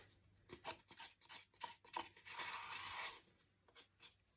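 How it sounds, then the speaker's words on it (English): Eco resin scraped out of a cup, heard as a run of close, quiet rasping scrapes and short strokes that build into a denser scraping passage before easing off into a few light scratches. "We're literally emptying our cup, scraping it all out."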